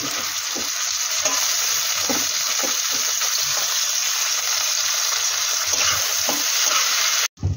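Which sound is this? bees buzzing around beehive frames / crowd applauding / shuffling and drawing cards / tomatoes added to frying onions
tomatoes added to frying onions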